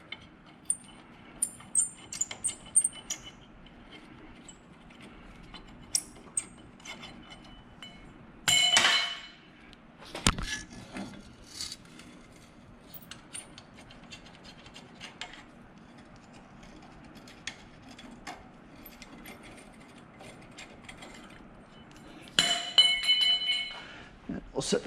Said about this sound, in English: Now we're going to unthread the bolts from the U-bolts.